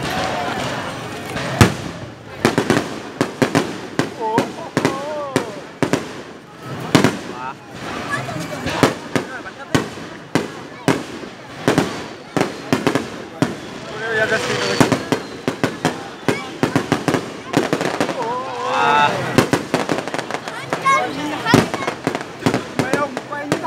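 Fireworks shells bursting again and again at a fireworks festival, sharp booms and crackles spread across the whole stretch, with excited voices talking and exclaiming among the crowd.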